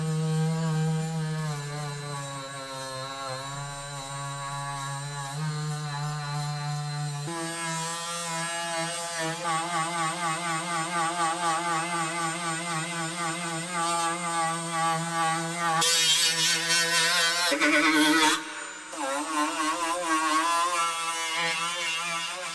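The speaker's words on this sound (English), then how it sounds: "Let's sand all of this down, and after I sand this side down, I'll rip off the other side and we'll sand that side down." A power sander grinds rusted Jeep TJ bodywork down to bare metal, a loud continuous droning whine that shifts pitch as pressure changes, running steadily throughout without any voices.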